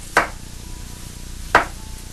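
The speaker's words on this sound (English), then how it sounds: "I'm going to thinly slice this onion and put it in as our first layer" A knife slices through an onion on a cutting board, two crisp separate cuts about a second and a half apart, close and clear in a quiet kitchen.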